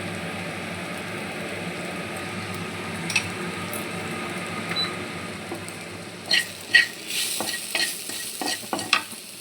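Pumpkin frying in a pan and being stirred, a steady low sizzle through the first part, then a run of sharper spoon-on-pan scrapes and clatters toward the end, close and fairly quiet.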